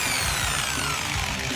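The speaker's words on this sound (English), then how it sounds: "We're using a different kind of drill bit called a Forster bit." A power drill fitted with a Forstner bit boring into wood, a loud, close, continuous whine and grinding hum with no pauses.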